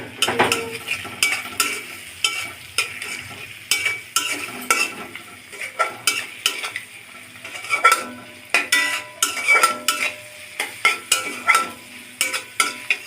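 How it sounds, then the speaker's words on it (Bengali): Ground cumin, coriander and turmeric sautéing in oil in a pan for a fish dish, a spatula scraping and clacking repeatedly in an irregular rhythm over a low sizzle, close and fairly loud, with no talking. "এখন এই মশলাগুলি কষিয়ে নিব"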